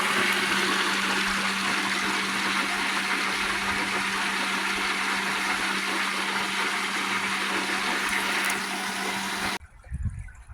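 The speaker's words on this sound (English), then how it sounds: "Pump is back online and running good." A Pentair salt water pool pump runs with water rushing steadily through it, a continuous loud churning hum with a faint tonal whine, cutting off abruptly near the end.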